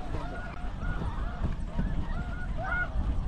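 Canada geese honk during a hunt, several birds calling in overlapping nasal honks over steady wind roar, moderately near and loud, without speech.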